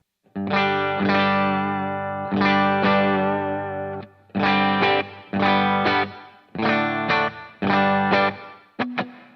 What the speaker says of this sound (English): So here's the clean tone right here with just a tiny bit of reverb on.